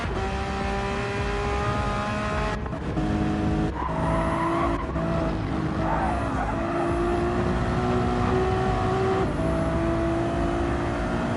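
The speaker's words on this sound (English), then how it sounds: "We have Roach going around the Circuit de Barcelona, Catalonia for the penultimate tour." A race car laps the Circuit de Barcelona-Catalunya, its engine revving up and down through gear changes with tire squeal, loud and continuous throughout.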